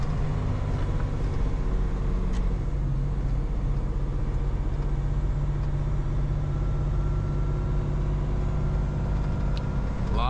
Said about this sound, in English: A lot of engine braking.